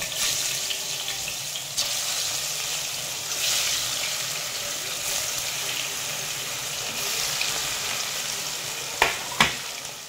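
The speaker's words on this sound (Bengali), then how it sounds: "এখন আমি মাছগুলোকে ভেজে নেব" Hilsa fish frying in oil gives a continuous close hiss and crackle, fairly loud, with a few sharp pops toward the end.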